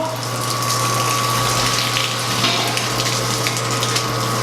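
Hot water gushes steadily into brewing vessels at a craft brewery, with a loud continuous rush and a pump humming underneath, no talking.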